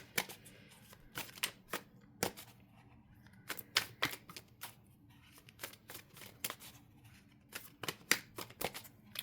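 Tarot cards being shuffled and drawn, producing quiet, close riffling and crisp slapping clicks in irregular bursts, with no talking over them.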